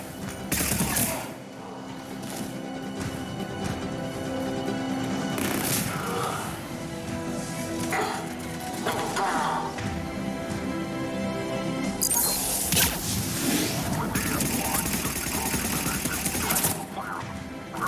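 Gunfire from a Mass Effect 3 battle at a checkpoint, with repeated shots and bursts running throughout a dense, noisy fight mix alongside other game effects.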